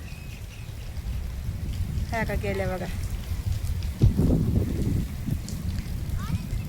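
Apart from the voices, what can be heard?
heavy rain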